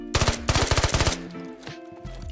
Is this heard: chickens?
no